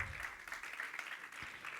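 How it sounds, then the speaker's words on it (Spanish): A church congregation claps together in a steady wash of applause, fairly faint and even throughout, with no clear speech over it. "Dale palmas."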